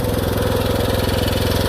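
Honda-powered pressure washer engine running on fresh oil, a loud, steady small-engine drone with a fast, even firing pulse, close by and alone.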